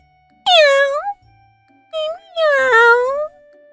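A cat meows three times up close: a long plaintive cry, a short chirp, then another drawn-out meow, with quiet pauses between.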